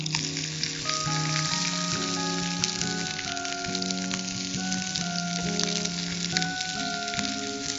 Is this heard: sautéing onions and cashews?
yes